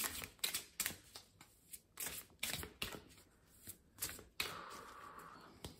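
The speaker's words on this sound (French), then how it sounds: "Je vais vous prendre une nouvelle carte là." A mediumship training card deck being shuffled close by, a series of quick papery riffles and snaps in irregular bursts, ending in a longer softer slide of cards.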